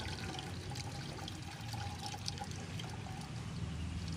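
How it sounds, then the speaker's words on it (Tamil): Tamarind is squeezed and dissolved in water by hand for a fish curry: a steady soft sloshing and trickling of liquid, close and continuous, with no talk. "தேவையான அளவு புளி கரைச்சிக்கலாம்"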